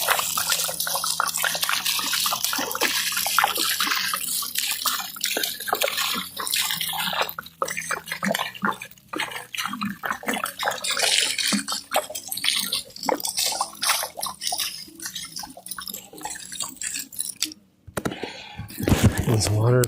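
Water splashing and spraying onto pigs in an outdoor pen on a hot day, a dense, continuous wash of spatter and dripping with brief pauses, ending in a louder burst.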